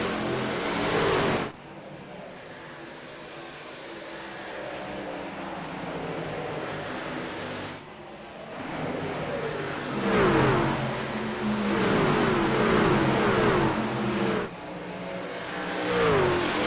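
Race cars roar around Nashville Speedway during a 150-lap oval race, engines revving and swelling as they pass with several loud rising and falling sweeps, and a steady drone between passes.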